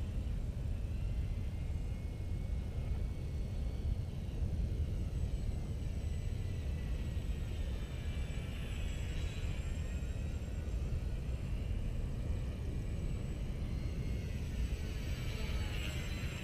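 A remote-controlled airplane running a Teensy 4.1 autopilot cruises at about 20 mph airspeed, its steady motor whine blending with continuous wind rush, holding an even level throughout with no talk.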